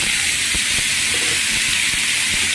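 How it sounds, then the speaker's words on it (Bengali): Pumpkin pieces dropped into hot oil with panch phoron spices, giving a steady loud hiss of sizzling with a few soft clatters, no voices. "তার মধ্যে এই কুমড়োগুলো দিলাম।"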